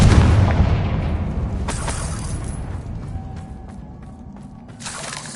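A Confringo spell blast in the video game Hogwarts Legacy: a loud booming explosion at the start that rumbles and fades over several seconds, with a few debris clatters and a second burst near the end.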